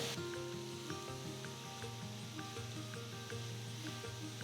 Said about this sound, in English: Keeping the flame on high, I'm sauteing the onions.